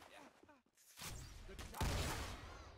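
Video game gunfire cracks out in a couple of loud broadband bursts, the sharpest near the end, over a noisy battle scene with a cart objective and a voice audible early on.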